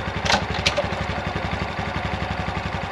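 A Honda Super Cub C125 motorcycle engine runs in first gear, its small single cylinder putting out a steady, rapid putter close by, with a couple of brief clicks near the start.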